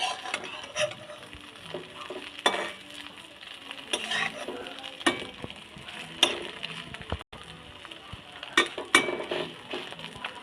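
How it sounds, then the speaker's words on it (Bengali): Eggs fry in a pan as they are turned and cut into small pieces, giving a steady close sizzle broken by repeated scrapes and clinks of a utensil against the pan, with no talking. "ডিমটাকে উল্টে পাল্টে ভেজে নিলাম"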